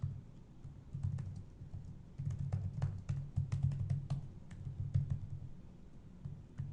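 Soft, steady keystrokes on a computer keyboard as an access list is entered, uneven bursts of clicks with short pauses, quiet and alone.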